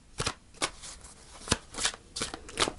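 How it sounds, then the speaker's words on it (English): Tarot cards shuffled and pulled from the deck during a reading, a series of crisp papery riffles and snaps in short separate bursts, close and moderately loud, with no talking. "I'm going to pull you one more card"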